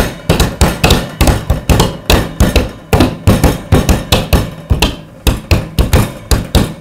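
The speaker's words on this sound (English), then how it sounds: "you want to pound a couple times with the hammer" Rapid, loud hammer strikes pound coffee beans repeatedly in quick bursts, close and forceful, with a short pause midway before the pounding resumes.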